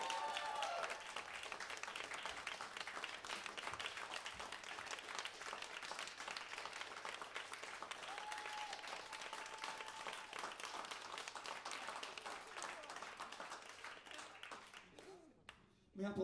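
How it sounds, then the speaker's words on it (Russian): Concert crowd at a blues show applauds for drummer Yuri Kondrashov, a long even wash of clapping at moderate distance that fades toward the end, with a voice faintly heard. "Аплодисменты!"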